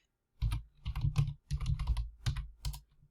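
Fingers type quickly on a heavily used computer keyboard in several bursts of close, crisp key clacks with short pauses between them and no voices.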